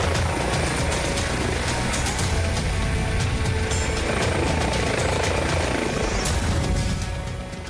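An air ambulance helicopter roars steadily overhead, its loud rotor thump and engine whine continuous throughout, fading slightly at the end.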